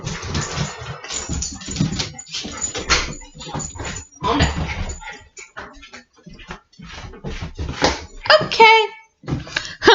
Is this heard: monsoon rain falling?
no